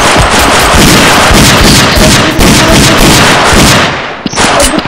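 Loud, dense bursts of rapid gunfire from a shooting video game, continuous and overlapping for about four seconds before cutting off, with a final sharp shot near the end.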